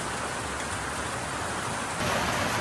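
Heavy rain pours down steadily as a dense, continuous hiss, close and loud throughout, with a slight swell in intensity near the end.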